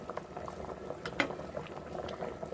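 Goat head curry simmering in a covered pot, a quiet, continuous bubbling with irregular soft pops and gurgles throughout, heard close up and alone.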